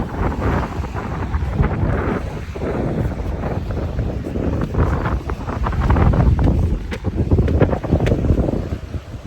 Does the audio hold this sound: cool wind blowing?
yes